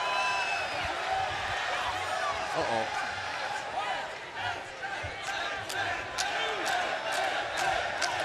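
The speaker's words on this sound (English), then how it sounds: "Al Snow feeding off of a live capacity crowd." A live capacity arena crowd at a professional wrestling match cheers and roars steadily, with whoops and shouts rising through the noise, and a voice briefly speaks over it.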